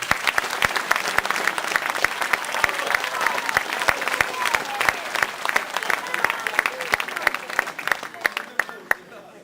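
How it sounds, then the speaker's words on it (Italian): Applause from an audience at a live music event in Rocca San Felice, sustained clapping with sharp individual claps standing out near the microphone, thinning toward the end. "Applaudiamo anche il tecnico del suono e della luce, Vincenzo Fasano."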